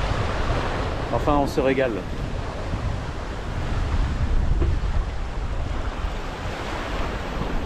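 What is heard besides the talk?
wind at the seaside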